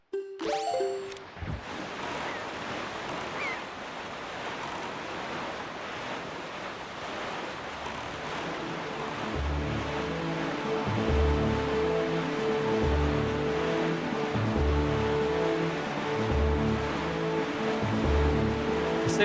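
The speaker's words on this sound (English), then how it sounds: "The sailing music is nice." Sailing music from The Legend of Zelda: Wind Waker plays over a steady rush of wind and ocean surf while sailing, a repeating rhythmic tune rising beneath the constant wash of waves.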